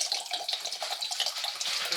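Water poured from a tap into a soup pot while making beef barley soup, a close, steady splashing stream, heard alone.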